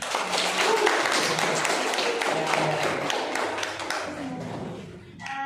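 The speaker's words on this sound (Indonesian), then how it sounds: "Mari kita beri aplaus untuk kelompok 5" A classroom audience applauds a student presentation group during a high school microteaching session, with brisk scattered clapping that holds steady and then fades out near the end.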